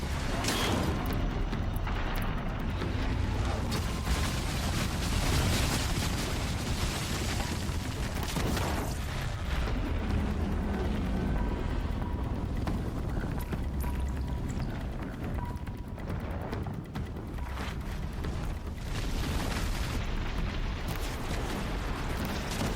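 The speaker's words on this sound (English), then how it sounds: "Frantically firing now, trying to take it down finally." Rapid weapon fire and heavy blasts in Horizon Zero Dawn as Aloy frantically shoots at a machine; dense, loud bursts and booms continue almost nonstop over a rumbling game mix.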